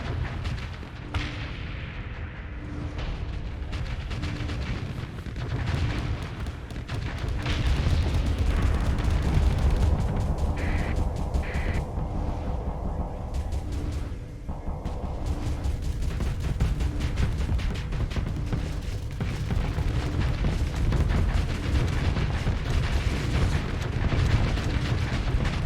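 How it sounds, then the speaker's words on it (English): Heavy explosions and cannon fire boom continuously as an enemy base's spurs are destroyed in the space combat game Starsector, a dense, loud, rumbling barrage with sharp bursts layered over a constant low roar. "so might as well blow up their spurs"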